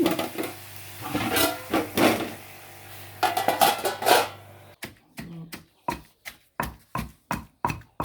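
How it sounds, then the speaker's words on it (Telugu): Brinjal and tomato chutney is pounded in a stone mortar, giving a steady series of sharp, evenly spaced knocks that grow more distinct after a stretch of rougher scraping and clattering, close by. "వంకాయ టమాటా పచ్చడి నూరేస్తున్నానండి రోట్లో."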